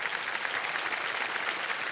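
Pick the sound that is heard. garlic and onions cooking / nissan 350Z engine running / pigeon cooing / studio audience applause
studio audience applause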